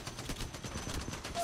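Rapid gunfire crackles in the mobile version of Apex Legends, a steady burst of quick, evenly spaced shots with moderate loudness running throughout.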